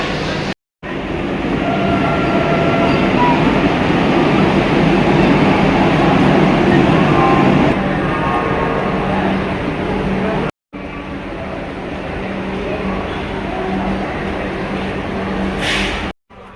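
The Tamralipta Express at Howrah station gives off a loud, steady rail rumble that fills the scene, broken by brief cuts before the rumbling resumes.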